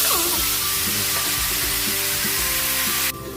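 Pork ribs frying in a pan with onion for caldereta give a loud, steady sizzle that hisses unbroken throughout, with no voices over it.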